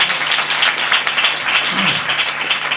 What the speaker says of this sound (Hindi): सबसे पहले एक अच्छी ताली प्रभु यीशु के लिए जोर से बजाएंगे।